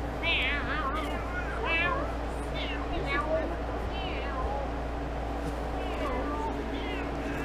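A yard cat meows repeatedly, several short, clear cries spaced a second or so apart, heard over a low steady hum while a person talks quietly nearby.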